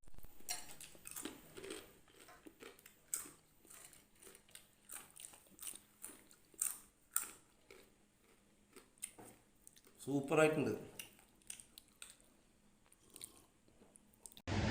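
Crunchy fried jackfruit chips are chewed up close, with rapid, crisp bites and crunches in irregular bursts and a louder crunching flurry later on, broken by a brief spoken remark.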